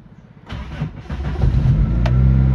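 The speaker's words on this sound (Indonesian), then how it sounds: "Tapi starteran mudah bosku, starteran mudah, enteng." A 1990 Daihatsu Classy car engine cranks briefly and catches, then settles into a steady, close idle that grows slightly louder, with no voices.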